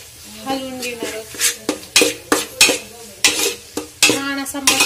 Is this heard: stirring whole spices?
yes